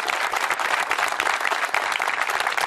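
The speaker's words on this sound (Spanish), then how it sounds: "Vamos a brindar un aplauso, una verdadera gloria de la radio argentina" Audience applause at a 2010 tribute event at a radio station, loud steady clapping from a sizeable crowd filling the whole moment without a break.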